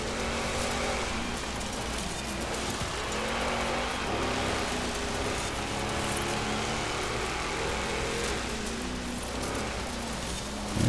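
Jeep Grand Cherokee Trackhawk and Lamborghini Urus racing on dirt in Forza Horizon 4, a steady dense engine roar with gravelly tire noise throughout, loud and continuous with no talking.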